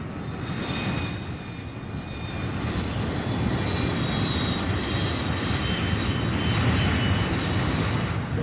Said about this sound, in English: Back at the base, the fighter bombers take off.